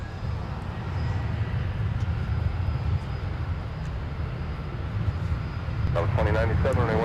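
An airplane taking off from runway 17 at Minneapolis–Saint Paul airport, a steady distant engine roar filling the whole stretch, with a voice speaking briefly near the end.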